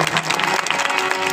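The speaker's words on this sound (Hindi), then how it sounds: "जोरदार तालियां बजाइए हमारी बहन के लिए" An audience applauds a young woman at a community gathering, with a short, dense burst of clapping from a crowd nearby.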